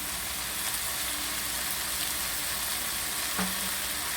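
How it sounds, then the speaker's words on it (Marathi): Chorizo-based stuffing for squid fries in a pan with a continuous dense sizzle and crackle, fairly even in loudness, with no voices. "हें सगळें स्टफिंग हांव फ्राय कोता"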